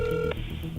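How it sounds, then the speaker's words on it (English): Touch-tone keypad beeps from a telephone number being dialed for a call, a steady tone cut off by a brief burst and then lower ringback-like hum, short and close. "It all started when this guy made a phone call to George with the number that Tommy provided us with"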